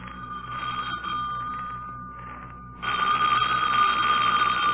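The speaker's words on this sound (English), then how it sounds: "Don't answer that, Lamont." Telephone bell ringing as a radio drama sound effect, a steady continuous ring that briefly dips and then returns louder, sounding alone with no talk over it.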